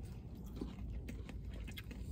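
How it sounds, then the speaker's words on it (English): Crunchy onion rings from a Dairy Queen drive-thru being bitten and chewed close to the mic, a steady run of dense crunching and mastication with no talking. "They didn't sog out. They still got a crunch to them."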